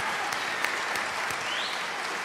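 Applause from a small live podcast audience, steady dense clapping throughout, with a few sharper individual claps standing out near the mic.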